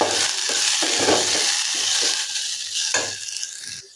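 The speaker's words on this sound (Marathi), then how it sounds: "ते छान परतून घ्यायचं." Whole coriander seeds and cumin sizzling in hot oil for matar paneer, a loud steady frying hiss broken by rhythmic scraping strokes of the stirring spoon, fading near the end.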